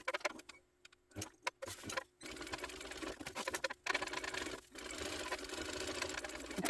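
A sewing machine stitches a fabric hip bag in short start-stop bursts, then runs in a longer steady close rattle with brief pauses, with no talk.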